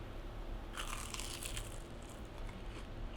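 Crispy fried milk with a creamy, gooey filling being bitten into, giving a short burst of close crunching that starts under a second in and lasts about a second, then trails off into faint chewing.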